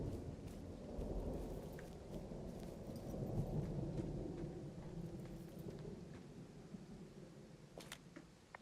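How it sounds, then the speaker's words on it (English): Thunderstorm in the game Firewatch: a rolling rumble of thunder swells and fades over steady rain pattering on surfaces, fairly quiet and without speech. "And it's gonna storm soon."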